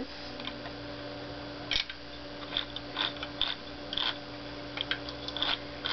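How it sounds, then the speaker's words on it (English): A paper crimper running over a strip of cardstock 8.5 inches long, producing a series of close, crisp ticking clicks at an uneven rhythm over a quiet background. "what you're gonna do is run it through your crimper"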